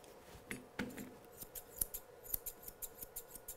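Grooming scissors trim a miniature poodle's coat in a steady series of quick, crisp metallic snips, close and fairly quiet.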